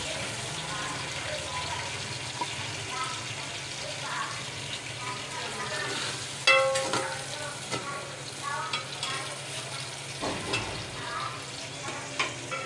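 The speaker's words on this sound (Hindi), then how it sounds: "अभी हम इसमें प्याज डाल देंगे" Onions fry with garam masala in a pot for yakhni pulao, giving a steady sizzle and crackle with occasional stirring scrapes, close by, while a voice talks over it.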